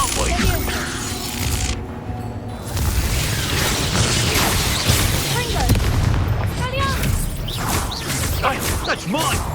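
Confringo explosive spell blasts in Hogwarts Legacy, a magic-combat game, go off as heavy booms with creaking, whooshing debris, loud and close, mixed with vocal sounds and other game effects.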